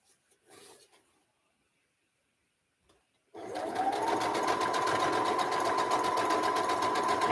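A sewing machine starts after a quiet pause and runs steadily at close range, its fast mechanical stitching continuous and loud with no talk over it.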